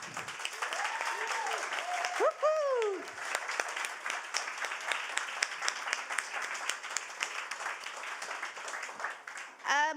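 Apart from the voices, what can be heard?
audience applause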